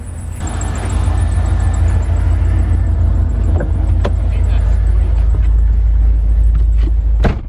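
A stock Chevrolet C5 Corvette being driven, its engine a loud steady low rumble from inside the car throughout, with a few clicks and knocks on top and no clear talk.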